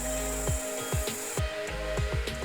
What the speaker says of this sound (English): This is just a small little sander.